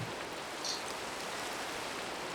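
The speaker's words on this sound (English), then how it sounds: "Oh, it's raining." Rain falling in Minecraft, a steady, even hiss of dense rainfall at low level that continues unbroken from start to finish with no voices.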